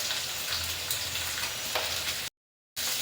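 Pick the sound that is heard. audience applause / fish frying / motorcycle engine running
fish frying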